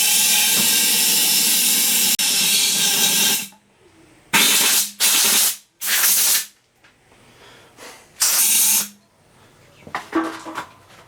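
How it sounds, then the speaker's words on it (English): Compressed air blowing out the gas tank of a Yard Machines push mower, a long loud hiss followed by several short sharp bursts of blowing air, close up with quiet gaps between. "We'll blow that out with compressed air."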